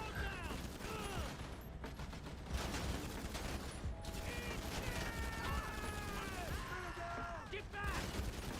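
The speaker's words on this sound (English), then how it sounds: "I should probably start shooting these guys" Video game gunfire crackles in dense, steady bursts across the whole stretch, with a busy layer of mechanical clatter and effects underneath.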